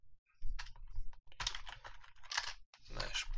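Quick bursts of computer keyboard typing while code is written in Unity, irregular clusters of soft clicks close to the mic, with short pauses between runs.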